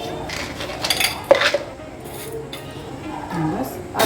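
A metal utensil clinks and scrapes against a pan as peanuts and cashews are stirred while cooking, with a few sharp close-up taps between softer rustling movements.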